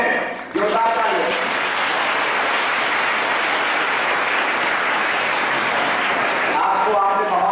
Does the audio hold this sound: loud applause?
yes